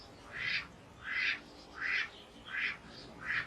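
Farm ducks just coming out of a heavy molt quacking in a steady run of five evenly spaced, nasal calls, moderately close with a quiet outdoor background.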